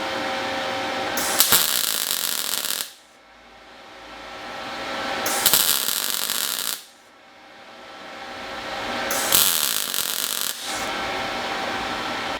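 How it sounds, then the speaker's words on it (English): A MIG welder joins steel pieces for adjustable links on an 80 Series Land Cruiser, with three loud, steady crackling weld bursts of about two seconds each, separated by short pauses. "now we'll just come in here with our MIG welder and weld these pieces together."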